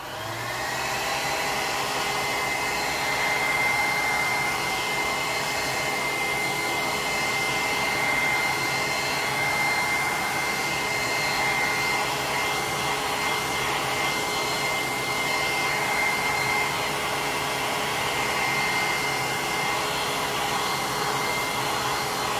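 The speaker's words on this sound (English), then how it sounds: "hit this with a quick blow dryer just so that way I can start to go in with the palm tree" A handheld blow dryer runs steadily over wet acrylic paint on a beach-scene painting, a loud continuous whirring roar with a faint steady tonal whine, nearby and alone throughout.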